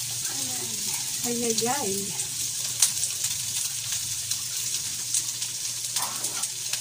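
Food frying in cooking oil while mung beans with dried salted fish are cooked, a steady broadband sizzle running throughout with a woman's brief exclamations over it near the start.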